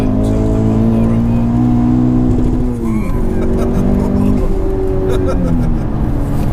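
A modified Volkswagen Golf GTI VRS making around 530 bhp revs hard, its engine note climbing and holding high in steady sweeps, loud and close, with people talking over it.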